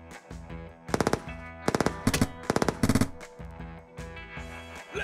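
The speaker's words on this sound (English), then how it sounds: "I shoot, you die." Rapid bursts of gunshots from the video game Tony & Clyde, several short rattling volleys in quick succession over a backdrop of game music.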